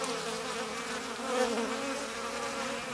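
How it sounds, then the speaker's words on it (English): A bee collecting water buzzes steadily and close by, a continuous droning hum that swells slightly midway. "The bee marked with yellow has just returned"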